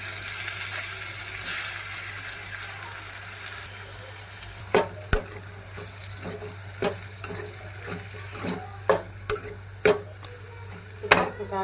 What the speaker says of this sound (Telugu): ఇప్పుడు కోసి పెట్టుకుని టమాటాలు వేసుకుంటాం దీంట్లో